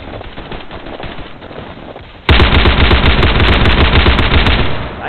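Gunfire in the Roblox shooter Unit: Classified, faint rattling bursts at first, then loud, dense automatic fire that runs unbroken to the end.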